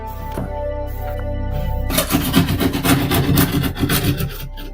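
Paint and drywall being scraped off a wall: a quiet stretch with a low hum gives way to steady, loud, rough rasping strokes that continue close up without talk.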